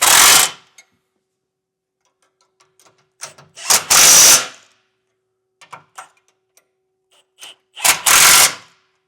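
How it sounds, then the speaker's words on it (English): A power tool tightens the four bolts holding the cross tube of an EcoHitch hidden front mount trailer hitch receiver in three short, loud whirring bursts, with faint clicks and tool handling in the quiet gaps between. "Then we'll tighten down these 4 that are holding in our cross tube"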